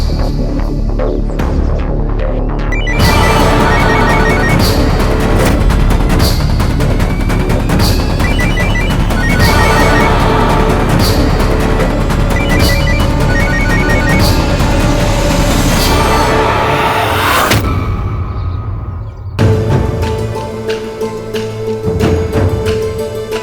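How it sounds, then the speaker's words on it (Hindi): A mobile phone rings nearby in a house, its electronic ringtone melody repeating in loud bursts over a throbbing musical background, fading near the end. "बेल तो जा रही है।"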